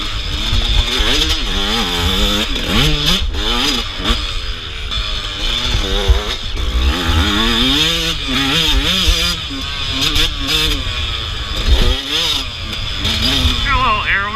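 An enduro motorcycle engine revs hard during a sprint enduro race, its pitch climbing and dropping with each throttle change and gear shift. A rider talks over the loud, continuous, close engine noise.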